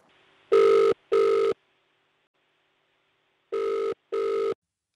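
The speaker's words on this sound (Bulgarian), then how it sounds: "През целия ден телефоните в общината даваха свободно," A telephone rings unanswered in a municipal office, two paired electronic rings, then a pause of about two seconds, then another pair, loud and close with no voices.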